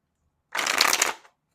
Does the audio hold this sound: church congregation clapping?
no